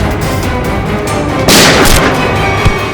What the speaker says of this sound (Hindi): अंदर से गोलियां चलने की आवाज आ रही है।